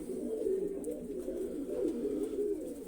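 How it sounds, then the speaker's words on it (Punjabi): A pigeon coos continuously nearby, a low, throaty, rolling murmur that swells and dips without pause. "ਇੱਕ ਆ ਕਬੂਤਰੀ ਦਿਖਾਉਨੇ ਆ ਆਪਣੀ ਵੱਡੀ ਕਬੂਤਰੀ ਆ ਇਹ"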